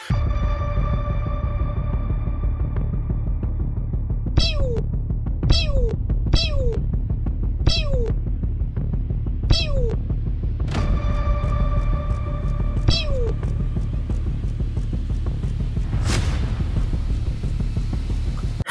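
A cat gives a series of short, clear meows, around six spaced calls standing out over a steady low hum, with a sharper noise near the end.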